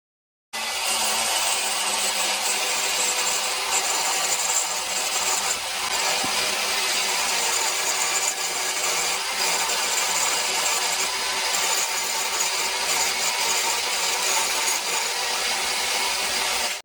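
An angle grinder carves a wooden twisted wizard staff, starting abruptly after a moment of silence and then holding a loud, continuous abrasive whine with slight dips as it bites the wood.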